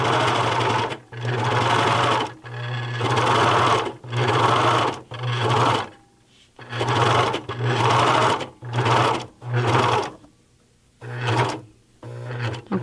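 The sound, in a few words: overlocker (serger) sewing a fabric corner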